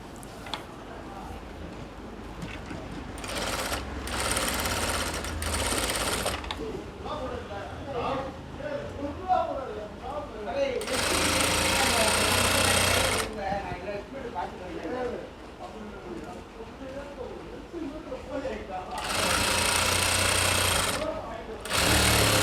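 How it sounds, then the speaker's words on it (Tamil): A sewing machine stitching a garment's lining sleeve, running in steady whirring bursts of a few seconds each with pauses between, while someone talks throughout. "அதில் இருந்து தையல் போட்டுக்கோங்க"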